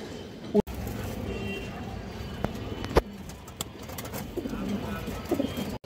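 A male Kaldom pigeon, a local Bangladeshi breed, gives a few low, throaty coos at intervals over a steady background hum.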